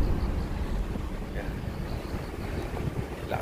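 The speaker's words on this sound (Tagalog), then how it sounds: "Lakas ng hangin guys." Strong, steady typhoon wind roars and buffets the microphone, with a low rumbling gusty noise throughout and no clear voices.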